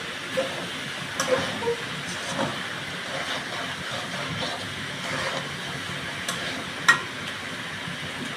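Mixed vegetables cook in a pan in the style of a white restaurant vegetable dish, giving a steady soft sizzling hiss with occasional light clinks and scrapes from stirring.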